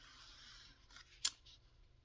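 Scissors make one short, sharp snip through junk journal paper, with soft rustles around it, quiet and close.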